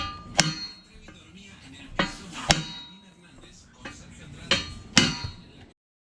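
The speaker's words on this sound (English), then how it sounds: "now we're gonna hit it with the chisel" A chisel strikes a steel tubular bumper on a Ford Ranger prerunner in sharp, ringing metallic blows, roughly six hits in uneven pairs with faint tapping between, close and loud in a workshop.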